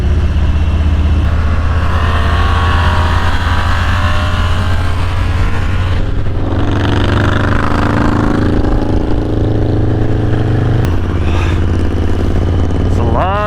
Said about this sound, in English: It's a lot of traffic for a Saturday morning.